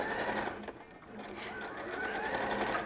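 A sewing machine stitches fabric, its needle running in a steady fast mechanical whir that carries on throughout, with someone talking over it.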